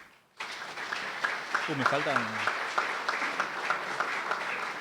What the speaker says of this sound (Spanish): Recibimos con un fuerte aplauso esta prestigiosa mesa panel.